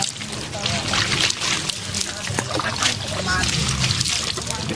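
Water is poured and splashes steadily while a man is bathed, a continuous close sloshing and trickling with people talking over it.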